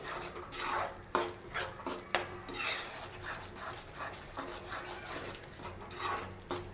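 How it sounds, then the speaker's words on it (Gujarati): A spoon stirs roasted flour mixed with cashew and almond pieces in a pan for sukhdi, making soft repeated scraping and light metallic clinks at an uneven rhythm, fairly quiet and close, with no voices. "હવે આપણે આ કાજુ અને બદામના ટુકડા લીધેલા છે તે એડ કરી દઈશું અને બરાબર મિક્સ કરી લઈશું"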